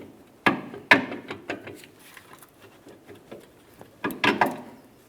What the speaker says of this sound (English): We'll hold on to it while we remove the bolt.